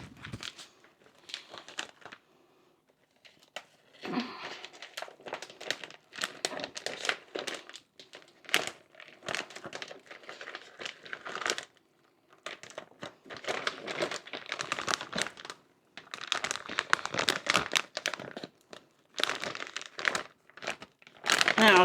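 Plastic freezer bag folded and crinkled around large pieces of raw meat, with bursts of close, crisp rustling and crackling that stop and start, separated by short quiet pauses.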